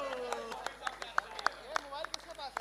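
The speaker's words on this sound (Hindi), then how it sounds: "जोरदार तालियां एक बार।" An audience at a turf cricket tournament felicitation claps in sharp, scattered individual claps rather than a dense roar, somewhat distant and under a voice speaking over it.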